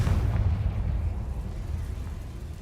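A Confringo blasting spell detonates in Hogwarts Legacy, giving a sustained, rumbling low boom that stays loud and dense for the whole stretch, with no voices over it.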